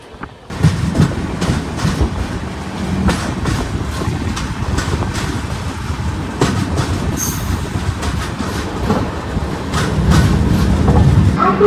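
Howrah Chennai Mail 12839 pulling into Ichchhapuram station in Andhra Pradesh: a loud, steady rumble and clatter of wheels on rails that runs the whole time and swells slightly near the end, with no voices.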